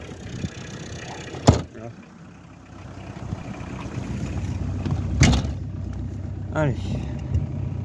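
A Peugeot 205 XTD diesel car driving with its boot open, a steady low engine rumble and road noise throughout, with a few sharp knocks and voices speaking over it.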